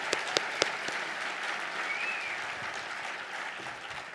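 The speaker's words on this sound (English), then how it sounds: "I'll clap to that." An audience at a gala applauds in a dense, steady wash of clapping, with a few sharp claps standing out at the start.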